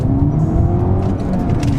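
A Mini accelerates hard from a standing launch with traction control switched off, its engine roaring loud and close in a steady, strained drone. Someone talks over it.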